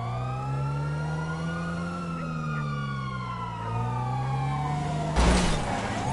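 Wailing police siren in GTA V, sweeping up and down steadily throughout, with a loud burst of noise near the end.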